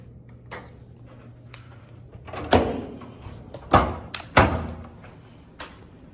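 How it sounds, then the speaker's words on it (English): A hotel room door is unlocked with a key card and pushed open: faint low hum, then a tiny electronic chirp amid a few loud latch clunks and thuds, close by, with quieter taps before and after. "Open the door."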